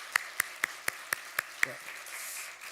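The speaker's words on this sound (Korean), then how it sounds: "격려의 박수 한번 하겠습니다" A few individual claps at a church Sunday service, seven sharp evenly spaced hand claps ringing in a reverberant sanctuary, then fading into soft room noise; a brief spoken word is heard.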